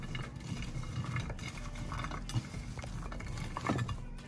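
Seasoned fries with black pepper being tossed with utensils in a baking dish, giving soft scraping and light clinks of metal against the dish in a steady stream, close and fairly quiet.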